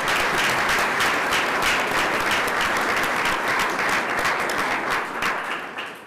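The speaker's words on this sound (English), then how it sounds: "Please join me in a round of applause for them." Loud, dense applause from a meeting audience honoring recognized individuals at a board of trustees session, sustained evenly for several seconds before tapering off at the end.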